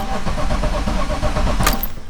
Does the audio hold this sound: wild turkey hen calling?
no